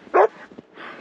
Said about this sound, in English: Got the two dogs out here playing.